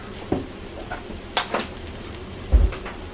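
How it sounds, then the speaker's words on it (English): Cayenne, ground cumin and garlic powder sizzle with vegetables in a pot for homemade chili, with a steady fry under a few sharp stirring scrapes and one heavier knock of the spoon against the pot; no one speaks. "with the vegetables, I'm going to go ahead and start cooking some of that seasoning"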